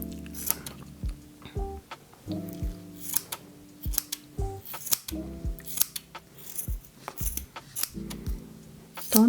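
Scissors snip repeatedly while trimming a yarn pom-pom over a coaster, crisp close cuts in irregular bursts with soft rustling of thread between them.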